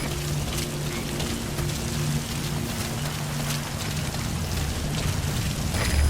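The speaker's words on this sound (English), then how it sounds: "The sound of rainfall should help to mask your footsteps." Steady rainfall in Metal Gear Solid V, a dense continuous hiss of rain with a faint low hum beneath, even and unbroken throughout, no voices.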